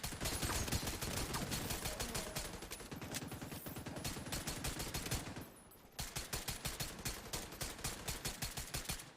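A PP submachine gun fires in rapid bursts in Tom Clancy's The Division 2, with sharp shots ticking in quick rhythm, a brief pause partway, then a steady string of distinct shots; faint overall with no talk.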